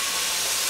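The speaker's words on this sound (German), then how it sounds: "Und dann brutzeln wir jetzt einfach mal hier schnell das Hähnchen an." Chicken pieces sizzle in a hot kitchen wok as they are seared for a creamy chicken curry, a loud, steady, dense hiss with no talk over it.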